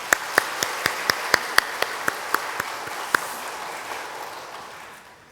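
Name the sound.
church congregation applause of thanks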